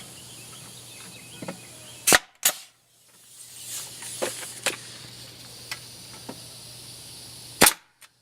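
Railing spindles being nailed in place, with three sharp, loud bangs that sound like a nail gun firing, spaced apart, and some fainter knocks and handling noise between them.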